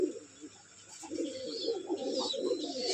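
Pigeons coo softly in a loft, a few low, throaty repeated coos rising and falling in short bursts, fairly close, with light background noise and no speech.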